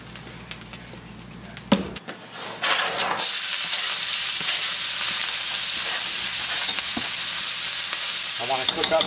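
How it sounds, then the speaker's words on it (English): Onions hit hot oil in a pan for a venison stir fry, a few clanks and stirring noises giving way to a loud, continuous sizzle that fills the rest, with occasional utensil scrapes. "I wanna cook up my onions and add in the garlic right now."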